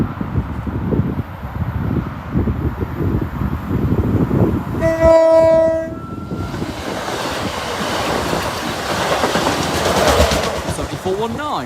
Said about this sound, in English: The 1125 East Midlands Railway service from Leicester to Grimsby Town